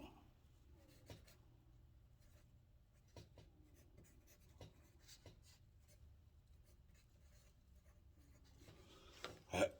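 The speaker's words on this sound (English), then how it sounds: "Let me write that down." Handwriting with a pen on paper, faint scratchy strokes in short bursts separated by pauses, quiet and close, ending with a louder rustle.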